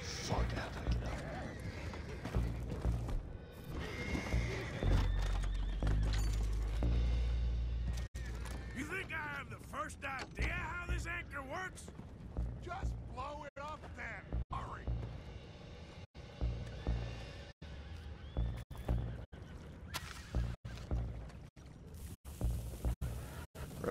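Horses clip-clop and whinny in Red Dead Redemption, mixed under excited game dialogue and a player's talk, with a few sharp impacts breaking through toward the end.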